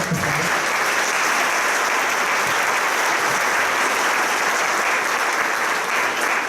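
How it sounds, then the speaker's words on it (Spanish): Sustained applause from a conference audience honoring the speakers at an event on harmonizing the General Law of Archives, steady and dense throughout with no pauses. "Pues un fuerte aplauso para nuestros conferencistas."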